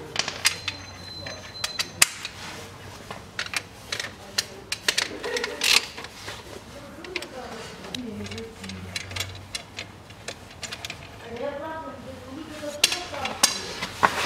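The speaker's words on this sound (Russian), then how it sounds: "Откручиваю шкив" Sharp metallic clicks and clinks from tools work loose the pulley on a 2.2 Range Rover Evoque engine, coming in irregular bursts with someone speaking quietly between them.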